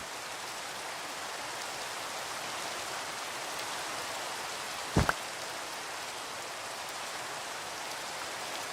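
Steady rain falls in a Minecraft world running the Mekanism modpack, a constant broadband hiss with no talk over it and one brief sharp tick about halfway through.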